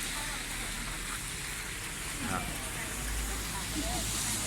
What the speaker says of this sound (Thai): มาตอนนี้ก็ฝนตกพอดีนะครับ